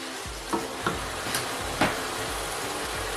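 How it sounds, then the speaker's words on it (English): Vegetable oil sizzles in a pot of Nigerian ayamase stew, with a steady frying hiss and a few soft stirring knocks. "I'll be adding some more vegetable oil, the one I used to fry my meat, because I really want this to fry properly."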